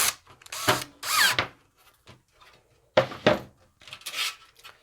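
A power drill driving two screws into a fluorescent light fixture: two pairs of short whirring bursts, close and fairly loud, separated by a quiet pause with faint handling clicks.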